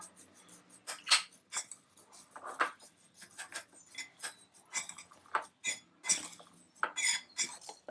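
A spoon mixing jowar popcorn bhel with a little coconut oil in a bowl gives a run of light clinks and scrapes, close and fairly quiet, in an irregular rhythm with no talk.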